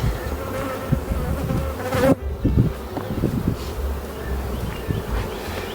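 Honeybees buzz steadily around an open single brood box packed with capped brood during a July nectar flow, a dense, close, continuous hum with no talking.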